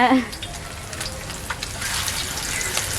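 Fish frying in plenty of oil, a loud continuous crackling sizzle close by, with a brief voice at the start.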